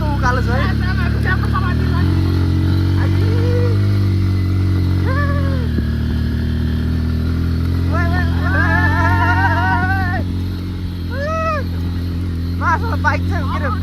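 Off-road motorcycle climbing a steep uphill trail near a waterfall in Chitwan, its engine droning loud and steady throughout with shifting pitch as it labors, while people talk over it.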